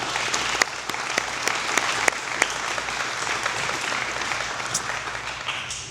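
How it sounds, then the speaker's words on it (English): Warm applause from the audience at an adult basic education graduation ceremony, steady clapping from a crowd sustained across several seconds and slowly tapering near the end. "Let's give a round of applause for them."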